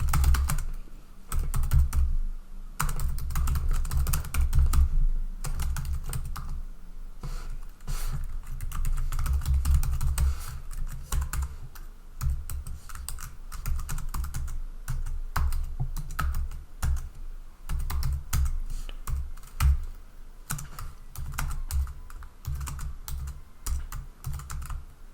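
Rapid typing on a computer keyboard, continuous dense clicking with brief pauses, close and fairly soft, no voices.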